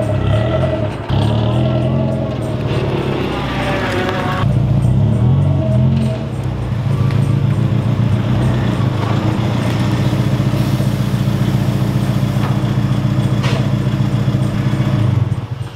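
Honda Civic on freshly fitted air cup lowering suspension, its engine droning loud and close with a rough, uneven mechanical rattle running throughout, steady without pauses.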